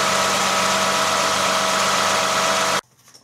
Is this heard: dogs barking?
no